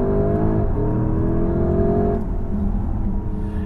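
A 2021 Porsche Cayenne GTS runs fast downhill, heard from inside as a loud, steady engine and road drone. The pitch dips partway through as the SUV brakes hard.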